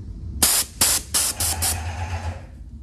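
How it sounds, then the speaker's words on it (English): An airless paint sprayer spraying water onto a popcorn-textured ceiling gives five short, loud bursts of hissing spray in quick succession, followed by a fading mechanical hum. "I use an airless paint sprayer."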